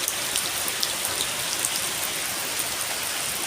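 Steady rainfall, a dense even patter of drops hitting surfaces nearby, continuous and moderately loud with no voices.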